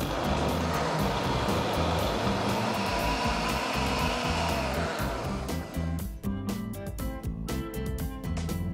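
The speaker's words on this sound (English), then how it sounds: "now I'm just going to transfer all of this into my blender because we're going to puree it" A blender pureeing curry base for chicken madras, a loud continuous motor roar with whirring blades that churns steadily, then turns choppier and pulsing toward the end.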